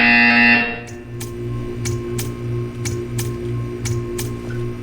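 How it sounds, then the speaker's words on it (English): In a Portal 2 video game test chamber, a loud electronic buzzer sounds briefly at the start, followed by a regular series of sharp repeated clicks or beeps over a low electronic hum. "hear a buzzer"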